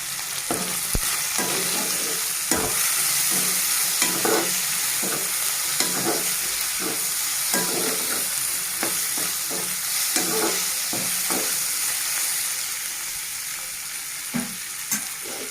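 Tomatoes and coriander fry in a pan, a steady close sizzle broken by repeated scraping strokes of a spoon as they are stirred, with no talking.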